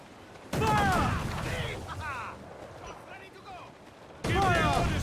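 Ship cannons in Assassin's Creed IV: Black Flag fire in two loud, booming volleys, one at the start and one near the end, with crew voices shouting orders in between.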